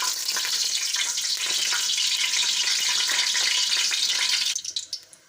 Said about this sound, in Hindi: मसाले हमारे अच्छी तरह फ्राई हो गए हैं